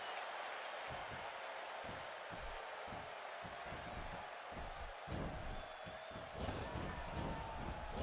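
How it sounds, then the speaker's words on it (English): Crowd in a WWE 2K16 wrestling arena cheering and clapping, a continuous mid-level roar with rhythmic thumps and swells, under faint commentary voices. "The crowd is buzzing."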